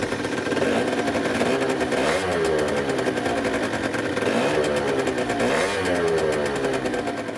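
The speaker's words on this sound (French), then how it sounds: "La sonorité du pot à résonateur, assez marquée à l'accélération, n'est pas trop insupportable au ralenti" A Peugeot Speedfight 4 scooter engine with a resonator exhaust revs up close in repeated rising and falling sweeps over a steady buzzing drone, loud and continuous with no talk.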